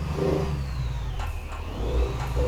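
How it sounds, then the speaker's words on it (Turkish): A heavy Scania R440 truck engine in Euro Truck Simulator 2 drones steadily with a throaty exhaust rumble, revving up slightly at moments, loud and close. "müthiş bir egzoz sesi var."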